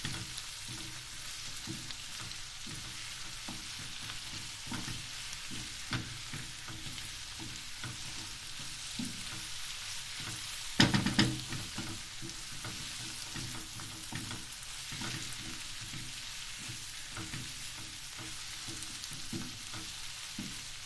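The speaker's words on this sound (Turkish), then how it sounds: "şekilde salçasını iyice karıştırıyoruz arkadaşlar" Tomato paste and pickles are stirred as they fry in a pan: a quiet, steady sizzle with soft rhythmic stirring scrapes throughout, broken once by a brief sharp clatter midway, with no voices.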